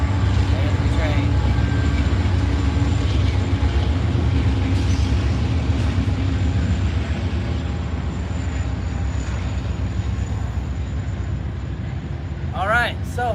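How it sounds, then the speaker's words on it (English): A train rumbles steadily nearby with heavy low-frequency drone, a few faint squeals of wheels or horn near the end; voices talk faintly underneath. "There's the train. There's the train."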